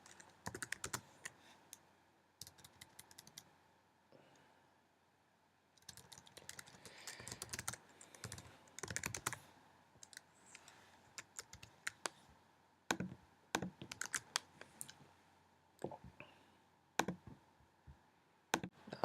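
Bursts of computer keyboard typing while entering code, quick clusters of clicks separated by short pauses, fairly quiet and close.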